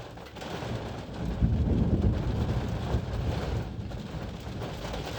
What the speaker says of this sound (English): Listen for the thunder.